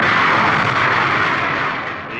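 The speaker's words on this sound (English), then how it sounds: "The escape rocket takes the capsule away from the booster." A Mercury capsule escape rocket fires to pull the capsule off an Atlas booster, a loud broad roaring blast that holds steady and then slowly fades toward the end.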